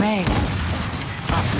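Dense bursts of gunfire from the video game Gears 5 fill the whole short stretch, loud and continuous, with a voice briefly heard near the start.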